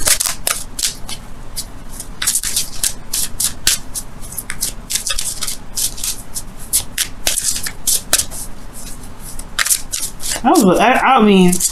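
Tarot cards are riffled and shuffled continuously for a reading, a rapid crisp flutter of card edges with sharp slaps and snaps throughout, and a voice speaking briefly near the end.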